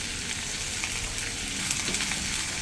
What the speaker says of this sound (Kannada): ಟಮಾಟೆನ ಫ್ರೈ ಮಾಡ್ಕೊಳ್ಳೋಣ.